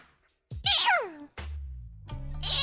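A human voice imitates a kitten's meow in two short, high, bending cries, followed by a lower sustained vocal tone.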